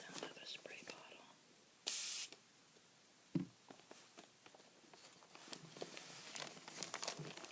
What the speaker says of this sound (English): do you guys like the sound of a spray bottle?